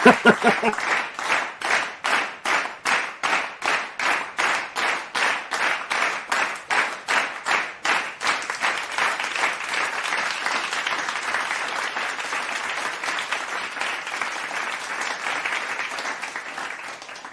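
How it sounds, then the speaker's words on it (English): A round of applause on a livestream, beginning as slow, loud rhythmic claps in a regular beat for about eight seconds, then dissolving into a continuous dense wash of crowd clapping that fades toward the end. "let's give a warm round of applause to our friend Face, also known as Dexter"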